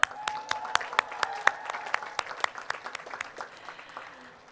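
Audience applause at a Conestoga College convocation, a scattered round of fairly sparse claps that are distinct and moderately distant, thinning out toward the end.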